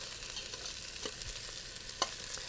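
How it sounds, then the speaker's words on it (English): Sausage meat stripped from its casings and browning in a pan for pasta sauce with tomato paste, heard as a quiet, continuous sizzle with a few soft scrapes and clicks of stirring. "you're just going to roll that meat around and get it brown on all different sides"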